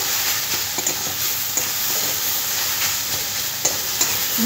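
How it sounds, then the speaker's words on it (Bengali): Vegetables for veg cutlets get stirred and fried in a pan: a constant close sizzle broken by scraping spoon strokes and a few clear clinks against the metal. No voices. "এবার সব কিছু ভালো করে সবজির সাথে মিশিয়ে নিতে হবে।"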